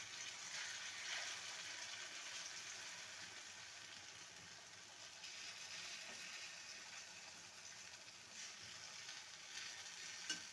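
Bottle gourd greens for a ghonto cooking in a pan while a spatula spreads them out, a steady soft sizzle with faint scraping, quiet and continuous, no voices.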